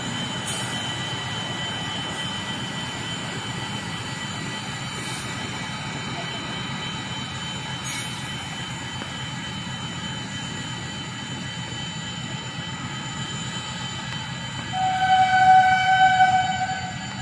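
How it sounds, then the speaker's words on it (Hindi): An Old Delhi–Firozpur passenger train on the electrified Bhatinda–New Delhi line rolls past with a steady, loud rumble. Near the end the sound swells, and a sustained horn-like tone sounds over it. "Old Delhi Firozpur passenger."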